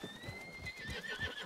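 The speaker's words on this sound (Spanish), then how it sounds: "Caballos salvajes." Wild horses whinnying in a western roleplay video game, a drawn-out high neigh over soft hoof clops, fairly quiet and with no talk.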